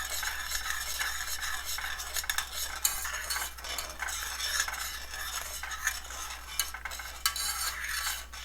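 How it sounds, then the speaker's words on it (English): A spoon stirs coffee powder into boiling milk in a pan, with rapid, continuous scraping and clinking over a low steady hum and no voices. "I am going to add this and give a quick stir"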